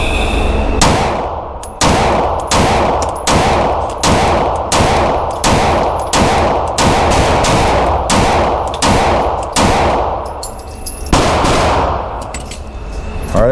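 Shots from a compensated carry pistol, an S&W Shield Plus Carry Comp or Canik MC9 Prime, fired at a range target: about fourteen loud, sharp reports at an even, steady pace with brief ringing gaps between them.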